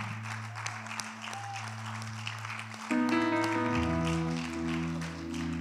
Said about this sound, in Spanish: dale un fuerte aplauso para el Señor